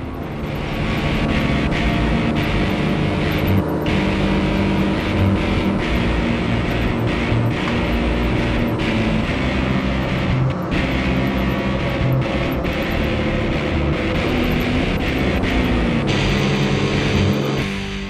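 A JCB Fastrac 7270 tractor, 270 hp, driving fast on the road at around 70 km/h, giving a loud, steady engine drone with road noise that holds constant throughout.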